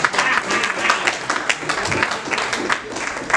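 An audience at a medical talk gives a short round of applause, a dense, steady patter of many hands clapping at moderate volume.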